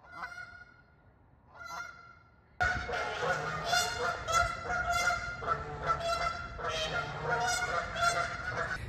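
Geese honk loudly while foraging, a few separate calls at first and then a dense, continuous chorus of harsh nasal honks close by.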